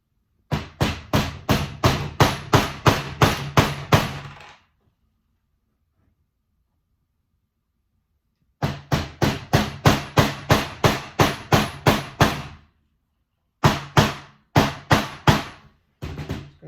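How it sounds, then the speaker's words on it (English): A part is hammered onto the hood of a toy recycling truck in quick, even bursts of sharp taps, about a dozen blows in a row, then a pause, then another fast run, and finally a few scattered strikes. "So we'll hammer that in."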